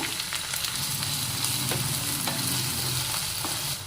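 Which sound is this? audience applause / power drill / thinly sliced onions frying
thinly sliced onions frying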